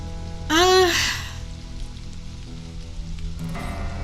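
Rain falls in a desert map of the survival game Stranded: Alien Dawn, a steady hiss of patter running throughout, with a brief rising tonal sweep near the start.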